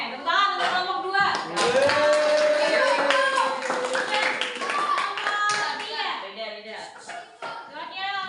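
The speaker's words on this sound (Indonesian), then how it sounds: "tepuk tangan untuk kelompok dua" Classroom applause for a student group in an Islamic religious education lesson, a burst of clapping mixed with children's voices and a teacher talking over it, energetic and close.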